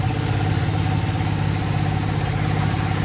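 A Yamaha R1 race motorcycle engine idles with a steady, even low rumble and a constant hum, close by and continuous with no voices.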